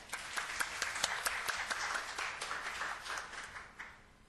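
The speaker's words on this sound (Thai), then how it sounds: "ขอเสียงปรบมือด้วยครับ" An audience at a hotel and food business company meeting claps, a sustained patter of many hands that swells and then gradually tapers off, moderately distant and fairly quiet.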